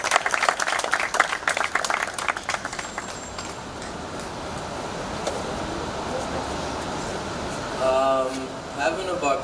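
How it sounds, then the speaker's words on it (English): A crowd claps at a basketball team visit from Barbados at Mount Vernon, with a dense burst of applause at the start that fades into a steady murmur of room noise while voices speak near the end. "Big round of applause."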